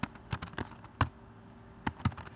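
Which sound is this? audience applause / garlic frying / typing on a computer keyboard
typing on a computer keyboard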